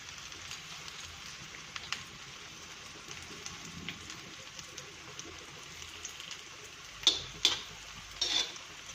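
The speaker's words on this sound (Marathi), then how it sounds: "हे बघा कशी वडी भाजली जाते" Colocasia leaf vadi (alu vadi) shallow-frying in oil on an iron griddle gives a steady, faint crackling sizzle, with a few sharper pops near the end.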